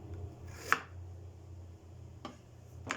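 A knife cuts a small piece of ginger on a board for homemade kimchi, giving three sharp, close knocks spread out over a low steady background hum, with no talking.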